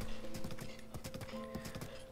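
A horse's hooves clip-clop in a steady rhythmic gallop in The Legend of Zelda: Breath of the Wild, crisp repeated beats over a soft sustained musical tone, with no talking.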